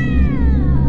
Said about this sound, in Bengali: বিড়ালটা ম্যাও ম্যাও করে সেখান থেকে সরে যায়।